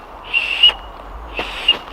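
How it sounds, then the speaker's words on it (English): Two short, high whistle tones, fairly soft, separated by about a second of quiet. "I was just testing to see if the whistle was working."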